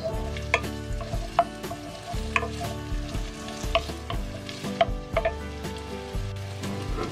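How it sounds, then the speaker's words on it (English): Chicken for tinola sizzles steadily in a pan while a utensil stirs it, giving regular knocks and scrapes against the metal every half second or so. "Just keep on stirring."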